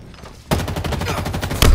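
Gunfire in the video game Halo Infinite: after a quiet start, a loud rapid string of shots rattles off in a fast even rhythm, ending with a heavier blast, close and punchy.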